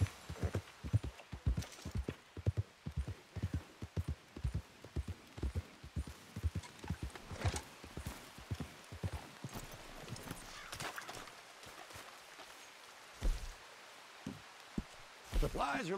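Steady clip-clop of horse hooves walking at an even pace in Red Dead Redemption 2 Online, close and clear, fading to a few scattered steps near the end, with faint background ambience.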